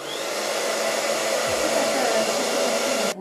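Hair dryer blowing on wet paint, a close, loud, steady whirring hum that runs unbroken for about three seconds, then cuts off abruptly.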